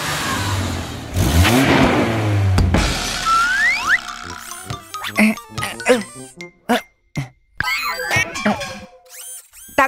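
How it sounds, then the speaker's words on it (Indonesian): A loud cartoon toy truck engine revs with rising whines, followed by a burst of cartoonish boings, clanks and quick sound effects. "Ayo kita bersenang-senang dengan suara mesin yang keras"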